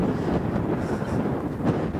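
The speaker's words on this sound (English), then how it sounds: "It's getting windy." Steady wind roars across the microphone on a mountain at about 11,500 feet, a loud continuous rushing noise with no voices.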